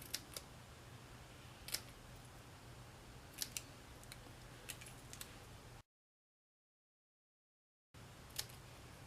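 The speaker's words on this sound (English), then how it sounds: "So I took my scissors and I'm just going to pennant the end." Quiet, close snips of scissors cutting through cardstock, a few sharp isolated cuts over a faint steady hum, with a brief silence.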